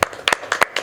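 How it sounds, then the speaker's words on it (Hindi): Claps ring out at a press meet for a web series, a few sharp, close hand claps in a quick, uneven burst lasting under a second. "सबसे पहले इनके लिए ज़ोरदार तालियां चाहूँगा"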